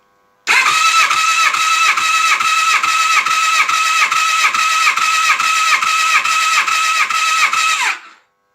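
Suzuki GSX-R750 engine cranking on the starter during a compression test, a loud, steady run of rhythmic chugging pulses, about two per second, lasting roughly seven seconds before stopping abruptly.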